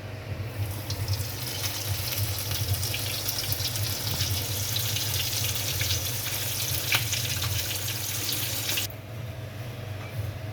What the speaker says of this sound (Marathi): आपण ह्याला मस्त आता फ्राय करून घेऊ हे बघा आता मी ह्याला चांगला रवा लावते